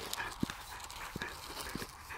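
Dog playing fetch outdoors, with scattered soft thumps and brief yelping or panting sounds at low level over a breezy background, no speech.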